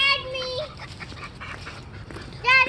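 A dog's whimpering, whining vocalizations come in short tonal bursts at the start and end, with a quieter stretch of muffled movement between them and no clear speech.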